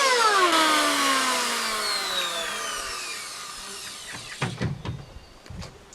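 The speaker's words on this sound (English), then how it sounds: "I'm not going to use my power planer to go all the way to the chine" A power planer trims overhanging material on an 18-foot sailboat hull build, a loud whine winding down in pitch, followed by rattling knocks and clatter.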